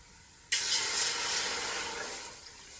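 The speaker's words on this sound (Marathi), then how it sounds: "पाणी उकळलेलं आहे मस्त" Water boiling in a pot on a stove, a sudden rush of bubbling hiss that starts abruptly and holds steady, slowly easing, close and moderately loud, no talk.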